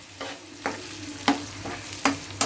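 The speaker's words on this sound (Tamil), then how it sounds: "வெங்காயம் வந்து நல்லா கோல்டன் ப்ரௌன் ஆகிற வரைக்கும் நல்லா வதங்கி வரணும்" Onions sizzle in hot oil toward golden brown for a mixed seafood dish, a steady frying hiss punctuated by regular scraping stirs of a spatula every half second or so.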